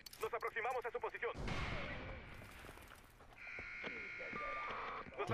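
An alarm goes off in the video game Far Cry 4, a sustained electronic buzzing tone that follows a burst of talking and mixes with other game sounds.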